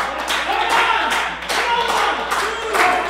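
A pro wrestling crowd claps and cheers steadily throughout, with a dense wash of applause rising in waves at a moderate distance.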